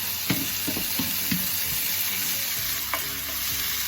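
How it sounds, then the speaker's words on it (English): Vegetables with diced organic tomatoes sauté in a pan, a dense close sizzle broken by several scraping stirs of a utensil, with no one talking. "I'm just sauteing my vegetables"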